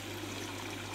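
Water drains back out of a pond pump funnel as a soft, steady trickle, faint and continuous with no voices.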